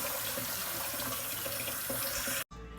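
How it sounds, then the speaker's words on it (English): Tap water runs steadily over beans being washed in a sink, a constant rushing stream that cuts off abruptly near the end. "I'm washing out my beans"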